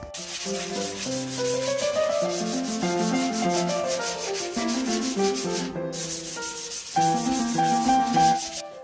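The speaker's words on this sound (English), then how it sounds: "And now we're sanding." Continuous rubbing scrape of sanding on a wooden window frame runs throughout under a melodic music track, pausing briefly near the end.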